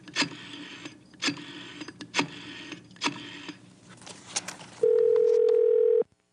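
In the video game Gabriel Knight 2, several short clicks of a phone being handled and dialed are followed by a loud, steady telephone dial tone that holds for about a second before cutting off.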